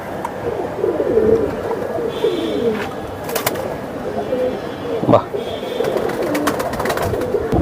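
Pigeons cooing in a loft of fancy breeds such as silver beji, pankhi and hammer pigeons, a steady low murmur of coos from several birds with people talking over it.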